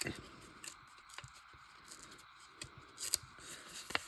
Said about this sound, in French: Ce que je vais faire, c'est continuer à déchirer ici.